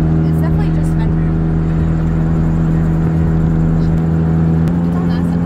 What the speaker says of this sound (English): It sounds like the fender hitting the wheel, just rubbing